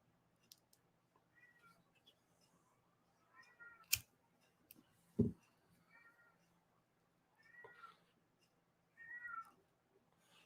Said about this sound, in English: He likes to meow 5, 6 times a day.